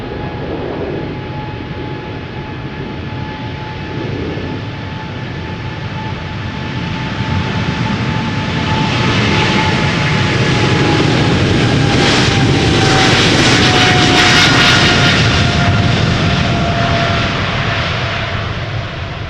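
A KLM Airbus A330 jet takes off at Amsterdam Schiphol, a loud, continuous roar that builds and peaks with a rushing engine whine as the aircraft passes close, then begins to ease.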